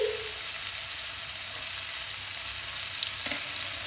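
Chopped garlic goes into cauliflower frying in hot oil, and a steady close sizzle fills the pan, with a brief clink of a utensil near the end.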